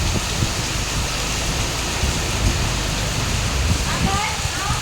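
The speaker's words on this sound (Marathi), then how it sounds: "इतका पाऊस चालू आहे ना, बापरे, खूप पाऊस आहे" Heavy rain pours in a steady, loud, close roar without a break, with low rumbling and a voice talking faintly underneath.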